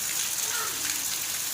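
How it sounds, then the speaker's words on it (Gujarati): A steady, dense hiss of heavy rain pouring onto surfaces, continuous and fairly loud with no voices. "એકદમ અંદરાધાર વરસાદ મસ્ત"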